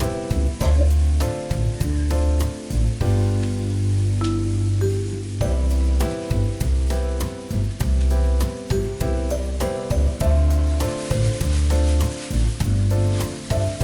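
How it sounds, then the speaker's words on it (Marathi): Malvani masala paste for a prawn (kolambi) curry sizzles loudly in hot oil while being sautéed, a dense continuous crackle broken by frequent sharp spoon scrapes against the pan, with no voices. "हे वाटप आपण दोन ते तीन मिनिटं तेल सुटेपर्यंत परतून घ्यावे"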